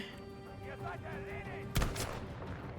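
Distant rumbles of combat in Battlefield V, then one sharp loud grenade blast cutting through, followed by a second crack; a faint voice murmurs underneath.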